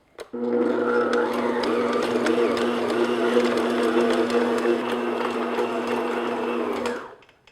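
A stand mixer kneads sticky bun dough on second speed, giving a steady, loud motor whir with a rhythmic churning that runs without a break for about seven seconds before stopping.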